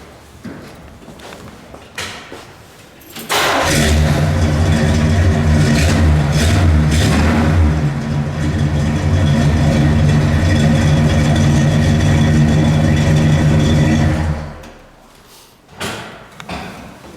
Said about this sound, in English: Nice sounding big block